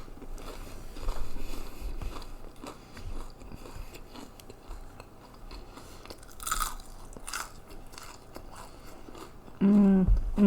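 Crunchy thick-cut homemade onion rings bitten and chewed up close, with soft irregular crunches and chewing, quiet overall, ending in a brief louder clatter.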